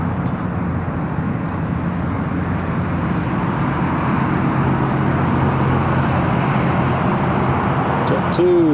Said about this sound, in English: Jet2 taxiing, and Ryanair is just pushing back